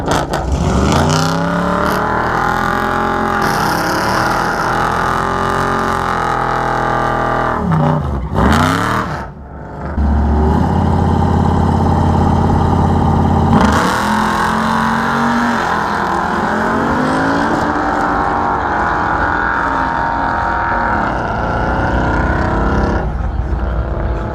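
A Mustang GT launches in a no-prep drag race, its engine roaring loud and close, revving through gear changes. A brief dip mid-run gives way to another sustained full-throttle blast.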